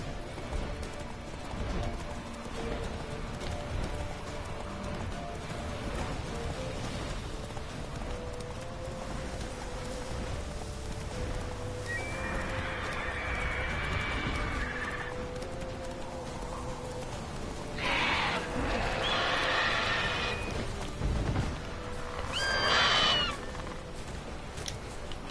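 Hooves of the horse Roach clip-clop at a gallop in The Witcher 3 over steady game music, with a few brighter bursts that may be whinnies near the end.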